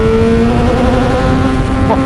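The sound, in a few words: Kawasaki Ninja 636 motorcycle riding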